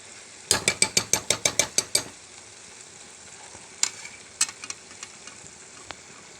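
Prawn and mango curry is stirred in a pan. A quick run of about eight sharp, evenly spaced scraping taps is followed by a few scattered knocks over a faint background hiss, with no speech.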